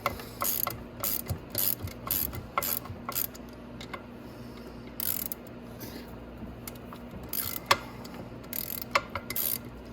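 A motor-driven tool spins off Loctite-coated sprocket bolts on a Venom Grizzly or Madix 1, giving bursts of quick ratcheting clicks and whirring with short pauses between them, close and moderately loud.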